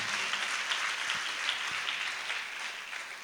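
A congregation at a church sermon breaks into sustained applause, a dense, even wash of many hands clapping that holds at steady loudness for the whole stretch.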